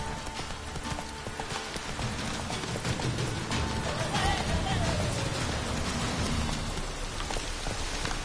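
Hooves of Roach, the horse in The Witcher 3, clip-clop at a steady walking rhythm over a constant patter of rain, fairly close and clear, with no talking.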